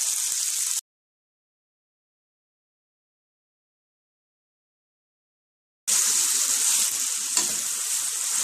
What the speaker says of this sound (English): That's why I'm just sauteing it.